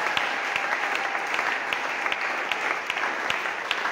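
A church congregation in Brazzaville claps steadily and loudly in unison, a dense continuous applause close by with sharp individual claps standing out.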